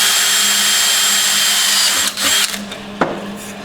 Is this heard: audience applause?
no